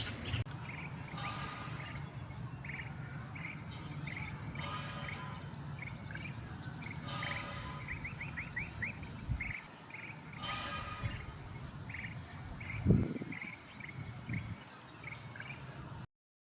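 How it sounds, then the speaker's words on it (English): Repeated sharp chattering alarm calls of a white-cheeked laughing thrush ring out in clusters over a constant insect hum, with a dull thump partway through, in Điền Lộc, Vietnam. "it sounded like a wren frantically alarms to defend its nest in the bush."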